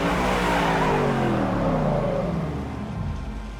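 A car in a night street race at the docks in Cyberpunk 2077 roars loudly and steadily, its engine note sliding downward as it speeds past and fades slightly.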